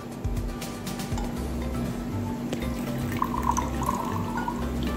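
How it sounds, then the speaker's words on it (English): Water poured into a clear glass during a simple kids' science demonstration, a steady liquid trickle and fill with faint dripping tones, close and continuous over a low background hum, with no talking. "take your clear glass, put some water till here"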